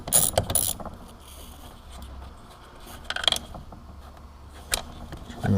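Small bolts being loosened from the back of a rear door handle on a 2007–2013 Chevrolet Silverado or GMC Sierra truck, heard as intermittent close metallic clicks and ratcheting bursts separated by quiet stretches.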